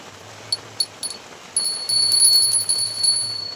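A small metal puja bell rung during Ganesh puja at home, a few separate bright rings at first, then sustained ringing that lingers, close and clear over a low hiss.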